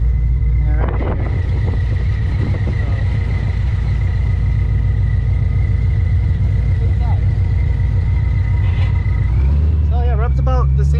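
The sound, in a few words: Ford GT500 with Magnaflow exhaust driving over speed bump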